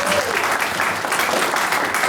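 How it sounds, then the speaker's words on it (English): Audience at a community meeting applauding, a dense, steady wash of clapping from a crowd filling the short moment without voices. "Let's give them a big round of applause, please"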